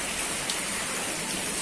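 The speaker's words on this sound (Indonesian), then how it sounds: "air yang tercurah air hujan ini" Steady rain pours down at a school grounds, a dense, even hiss of falling water with no break and no voices.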